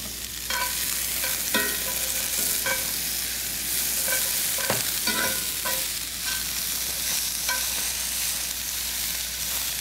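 Sturgeon pieces sizzle in a hot pan while being stirred, a constant close frying hiss broken by repeated scraping and clinking strokes of a utensil, with no talking.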